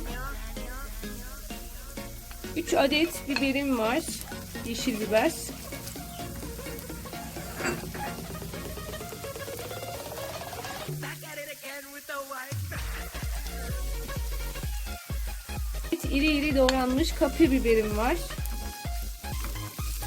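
Minced meat, onions and vegetables sizzle steadily in a hot pan while someone talks over it in Turkish, with occasional stirring scrapes and clinks.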